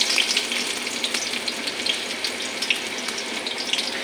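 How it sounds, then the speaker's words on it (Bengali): Chopped onion frying in a pan for a tempering, a steady bright sizzle with small crackling pops throughout, close and continuous, with no talk. "পেঁয়াজটা একটু লালচে করে ভাজা করে নিই।"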